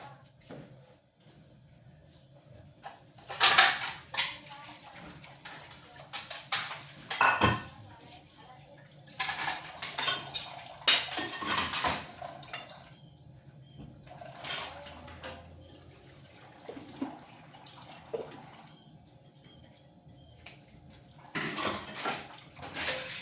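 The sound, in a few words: washing dishes in a sink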